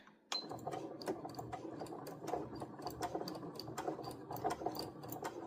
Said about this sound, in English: I'm going to stitch on it. Back tack.